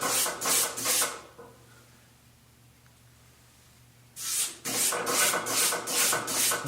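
A metal file rasping along the bevel of an axe head to sharpen it, rhythmic strokes close up, then a pause of near quiet before the steady rubbing strokes resume.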